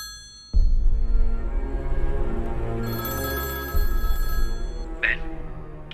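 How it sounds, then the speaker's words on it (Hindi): A telephone rings during a call in a Hindi film scene, a repeated electronic ring tone over a low droning background, with brief sharp tones near the end. "भवानी, अपने भाई को फोन लगाकर बात करो।"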